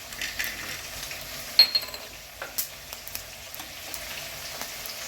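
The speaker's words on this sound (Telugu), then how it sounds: "కొంచెం ఫ్రై చేసుకుందాం, ఒక 2 మినిట్స్" Cashews fry in a pan with a soft, steady sizzle, broken by a few sharper clicks and taps of stirring, heard alone without talk.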